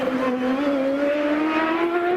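A Champ Car race car on the street circuit at Las Vegas, its high engine whine rising steadily as it accelerates past, loud and sustained.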